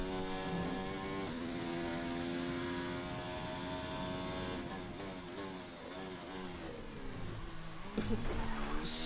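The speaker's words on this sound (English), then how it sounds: "Just bounced off the wall there." Engine of an F1 race car in the F1 2019 video game at the Azerbaijan Grand Prix, a high harmonic whine shifting pitch up and down through gears, ending in a sudden louder burst as the car strikes a wall.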